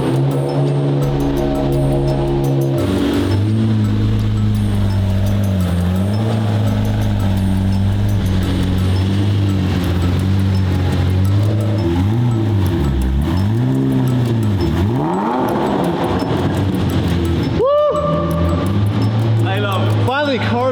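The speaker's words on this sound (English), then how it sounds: "One of only 2 twin-turbo Murcielagos on planet Earth." A straight-piped twin-turbo Lamborghini Murcielago SV idles loud and close, then revs repeatedly in sharp rising and falling blips, ending with a hard rev near the end.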